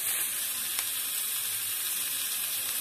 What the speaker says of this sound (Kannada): ಮತ್ತೆ ಇದನ್ನ ಎಣ್ಣೆಲಿ ಫ್ರೈ ಮಾಡ್ತೀವಲ್ವಾ